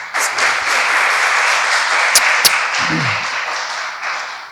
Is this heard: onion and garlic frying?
no